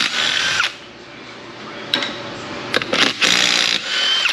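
Air impact gun working on rusty truck wheel lug nuts, a loud steady whir that cuts off, then resumes in short bursts and a sustained run near the end.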